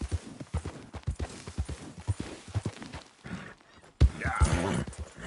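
Horse hooves clip-clop at a steady walking rhythm while riding in the Red Dead video game, close and clear, with a louder burst of hoofbeats and movement near the end.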